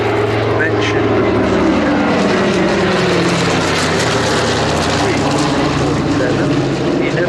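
A Douglas DC-3 propeller airliner at the Flying Legends 2015 airshow drones steadily and loudly throughout, a deep continuous engine roar. A voice talks over it.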